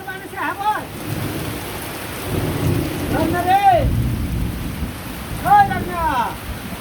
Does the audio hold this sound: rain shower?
yes